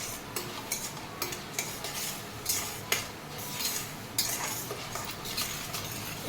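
Toor dal roasts in a pan for an Andhra beerakaya pappu while a spoon stirs it steadily, making close, repeated scraping and clinking strokes over a light, constant sizzle.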